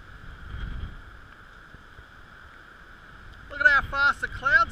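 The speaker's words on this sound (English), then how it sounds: "Crazy wind." Steady strong coastal wind at Sugarloaf Point Lighthouse, Seal Rocks, rushes and buffets the microphone with a low rumble, then a voice starts speaking over it near the end.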